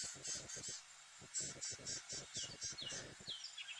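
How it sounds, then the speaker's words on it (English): Crested francolins call close by with a rapid series of harsh, scratchy chirps in repeated bursts, the calls overlapping, set against a quiet early-morning bush during a safari drive. "They were listening to the other crested francolins chirping"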